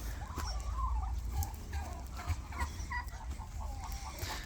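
Domestic turkeys gobbling and clucking in a busy flock of mostly young birds, several calling over a low rumbling background.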